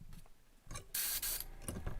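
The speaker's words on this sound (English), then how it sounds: "I might have to spray some white" A handmade fishing lure is spray painted in a few short bursts, with one long, loud hiss of spray in the middle and quieter brief sprays before and after, close by.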